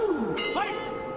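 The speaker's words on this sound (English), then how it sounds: "The bell in round two." A ring bell at a Glory kickboxing match signals the start of round two, sounding as a bright clang with a ringing, pitch-bending tone that decays over about a second.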